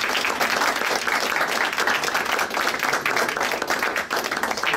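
Audience at a multiple myeloma support group meeting breaks into a big round of applause, dense steady clapping filling the room from start to finish.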